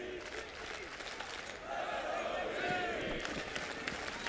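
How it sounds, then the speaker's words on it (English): A large arena crowd at an MLG Columbus 2016 Counter-Strike esports match between Luminosity and Virtus Pro applauds and cheers in a sustained, distant roar that swells midway, with faint commentary beneath. "Look at this crowd."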